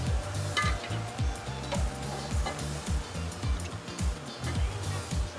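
Peppers and onions for crab cakes sauté in hot oil, a constant close sizzle punctuated by repeated rhythmic clanks and scrapes of a utensil against the pan, with no talking.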